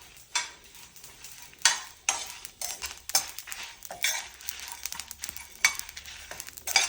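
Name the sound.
spices spluttering while frying in a pan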